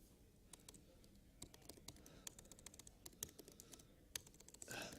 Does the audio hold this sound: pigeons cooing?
no